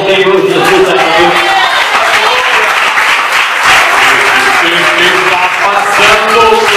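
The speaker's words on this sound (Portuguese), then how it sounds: "Aplauda ao Senhor Jesus." A church congregation at a Presbyterian service applauding, sustained dense clapping from a large crowd close by, with voices and singing mixed in under it.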